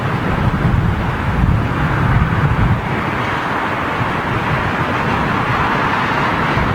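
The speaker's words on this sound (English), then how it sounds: "we're still catching some pretty decent wind conditions" Strong gusting wind buffets the microphone outdoors at London Heathrow Airport, a steady broadband roar with heavier low rumbling gusts in the first few seconds, no voices.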